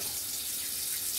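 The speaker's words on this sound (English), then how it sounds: "let me wash my hands now" Hands being washed under a running kitchen tap before baking, a steady, even hiss of flowing water close by with no talk.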